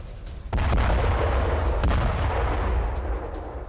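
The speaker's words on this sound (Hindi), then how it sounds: "तेहरान के परचिम में भीषण विस्फोट।" Bombing explosions and gunfire in news footage of strikes on Parchin near Tehran: a heavy close blast hits after half a second, followed by a sustained loud rumbling roar with a second burst midway.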